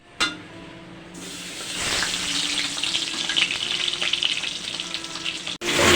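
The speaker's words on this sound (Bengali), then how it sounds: "দিয়ে দিব কড়াইয়ে সরিষার তেল" Mustard oil sizzles and crackles loudly in a wok, a steady hiss that starts with a sharp splash and holds for several seconds, close up with no talking.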